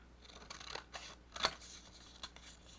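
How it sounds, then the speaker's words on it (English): Scissors cutting out paper words, with a few short, crisp snips close by, the sharpest one landing midway through. "I thought it would be kind of fun just to cut out"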